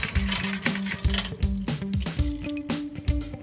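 A metal chain and padlock drop into a bike trailer bin, making a quick series of loud metallic clinks and rattling jangles, close up and uneven in rhythm.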